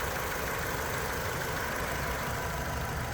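A 2013 Toyota RAV4 Limited AWD with its 2.5 liter engine idling, a steady, even hum with no irregular knocks or variations, heard alone without talking for a few seconds.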